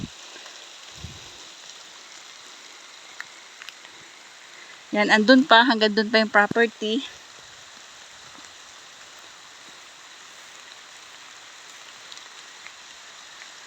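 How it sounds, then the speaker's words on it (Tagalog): Heavy rain falls on a rural farm lot near rice paddies and a spring, a steady close hiss throughout, with someone talking over it for a couple of seconds midway. "Kasi ito, ang lakas na ng ulan."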